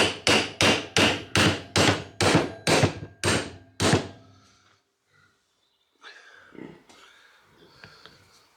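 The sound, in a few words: hammering out Toyota Hilux universal joint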